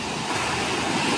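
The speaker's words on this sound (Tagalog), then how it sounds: "ng alon sa paghampas sa dalampasigan," Ocean waves wash onto a beach in La Union, a brief, close burst of broadband surf noise with some wind, no voices.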